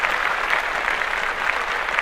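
A short stretch of applause on a sports podcast, even and continuous clapping from several hands for about two seconds.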